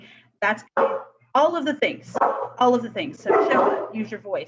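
A dog barks repeatedly at home, its barks mixed in under a person speaking continuously in an online town hall.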